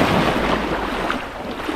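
Sea waves wash onto the beach at Rodnik in Anapa, a broad, loud roar with heavy wind buffeting the microphone, steady throughout with no voices.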